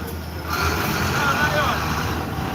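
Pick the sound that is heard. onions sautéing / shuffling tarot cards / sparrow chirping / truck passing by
truck passing by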